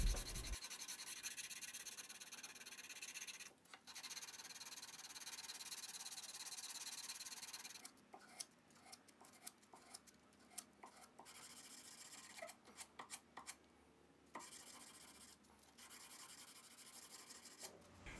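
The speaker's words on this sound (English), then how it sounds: "So now I'll use a file to help finish cleaning up all the lines and then I will hand sand the handle" A file and then sandpaper worked by hand over a dagger handle, a steady close rasping rub that runs continuously and later breaks into choppy strokes with short gaps, with no talking.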